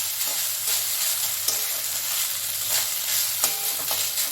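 Lemon rice being stirred and tossed in a hot pan, with a steady soft sizzle and occasional scraping clicks of the spoon, close and continuous with no talking.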